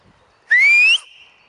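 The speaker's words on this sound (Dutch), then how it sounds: "Eens even kijken of ze nou op mijn fluitje komt." One sharp, high whistle blast lasting about half a second, rising slightly in pitch, blown to call an animal, loud and close against near silence.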